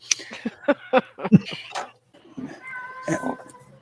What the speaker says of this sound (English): I heard a cat somewhere. I'm hearing a cat.